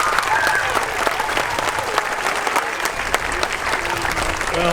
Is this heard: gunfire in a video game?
no